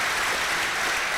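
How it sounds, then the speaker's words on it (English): Audience at a university inaugural lecture applauding the lecturer, a dense, even wash of many hands clapping close by, sustained for a brief moment. "Please a round of applause for our inaugural lecturer"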